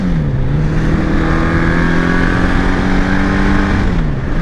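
A Honda CB750 DOHC motorcycle with dual carburetors on a shakedown ride, its engine droning loud and close with small rises and dips in revs.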